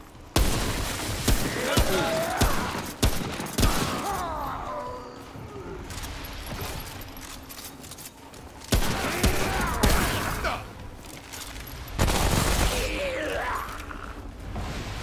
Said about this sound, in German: das gute alte Maschinengewehr war auch super